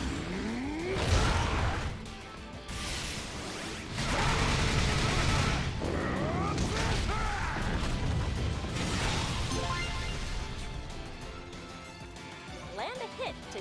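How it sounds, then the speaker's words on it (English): A burst attack in the Pokken Tournament fighting game sounds as a loud, sweeping whoosh and crash of impacts and effects. Swelling bursts ride over a busy game soundtrack, and a narrator's voice runs partly over the action. "Try using a burst attack."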